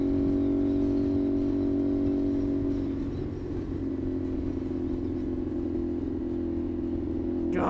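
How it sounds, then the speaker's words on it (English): A CFMOTO 450SS fitted with an IXIL exhaust is ridden along, its engine holding a steady droning tone that dips and swells slightly, with wind rush growing near the end and no voices. "this exhaust sounds so good"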